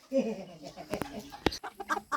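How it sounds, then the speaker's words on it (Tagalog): Bantam chickens cluck in a backyard laying coop in the rural Philippines, a few short irregular clucks and calls close by, with faint human voices around them. "Ito yung aking mga manok ko."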